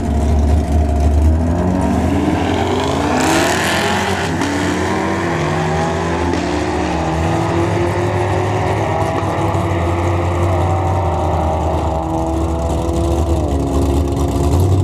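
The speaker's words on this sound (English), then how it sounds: "Manny in the left lane, the LT1 Camaro. Dan Baker in the right lane in the EcoBoost Mustang." An LT1 Camaro and an EcoBoost Mustang run a drag race, engines roaring loud and close as they rev and climb through rising gear sweeps, a sustained powerful drone with no talking.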